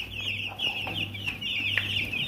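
Seven-day-old chicks raised for meat peep and cluck continuously in a high, busy chorus, close by and fairly loud, with faint low background hum and no speech.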